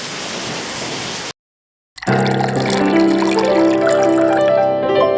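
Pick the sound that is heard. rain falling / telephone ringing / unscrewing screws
rain falling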